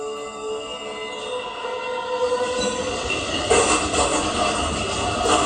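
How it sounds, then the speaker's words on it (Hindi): Train rolling through a railway station, a steady rumble of wheels on rails with metallic squealing tones that swell louder toward the end, nearby and continuous. "दोबारा रेलवे स्टेशन आ गया।"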